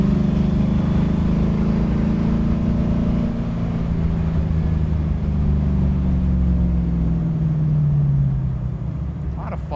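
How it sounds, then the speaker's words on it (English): A deep V8 engine roar from a 1965 Sunbeam Tiger builds and holds under steady load on the road, a throaty rumble that swells then eases near the end. "Really can't beat that V8 sound."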